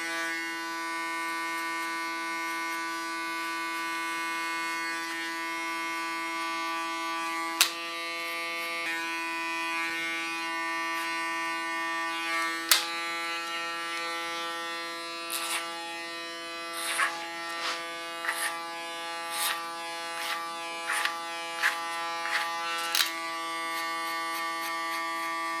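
Electric hair clipper with a 2 millimeter blade cutting short hair, used like a comb at the neckline: a steady close motor buzz with several brief louder snips and surges as it passes through hair, no talking.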